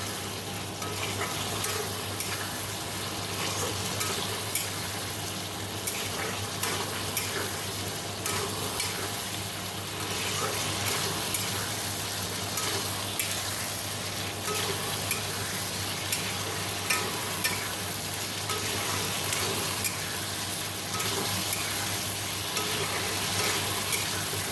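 Potatoes and masala sizzle in a pan after hot water goes in, a constant bubbling hiss with frequent spoon scrapes and taps as the mixture is stirred, steady and close throughout with no talking.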